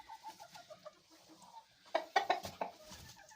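Hens sit clucking softly in a chicken coop, a series of low, short murmuring calls that build into a few louder, sharper clucks, close and quiet.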